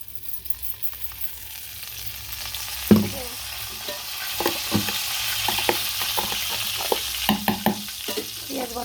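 Onion paste frying in a pan, a continuous hiss of sizzling oil that swells as it goes, with a sharp clatter near the start and repeated scraping stirs of a spoon, close by and without talk.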